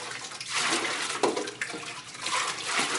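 Water pours steadily into a fish tank, a continuous splashing and gurgling rush with small bursts, close and without talk.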